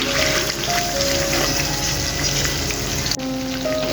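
Green chilli pickle with sugar added sizzles steadily in a pan while being stirred, a loud continuous frying hiss with small scraping touches and a brief dip near the end.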